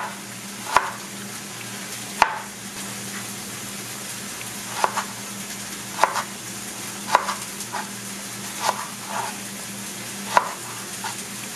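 Vegetables for kimchi soup are added to a frying pan, with a steady low sizzle and sharp knocks or taps every second or so, close and without speech.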